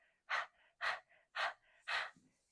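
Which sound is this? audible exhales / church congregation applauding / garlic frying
audible exhales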